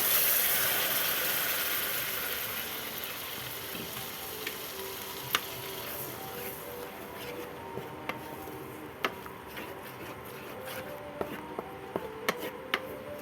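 Ground spice paste sizzles in hot oil for shahi paneer, a strong frying hiss that settles over time, punctuated by sharp clicks and spatters, close and without voices.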